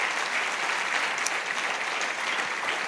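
Dense, steady applause fills a church congregation, many hands clapping together at a loud, even level throughout with no voices standing out.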